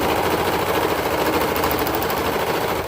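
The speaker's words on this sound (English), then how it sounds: "And then you're gonna go ahead and hold it and serge over it." A serger sewing machine stitches over a fabric seam in one fast, continuous rattling run, loud and close, with no talking.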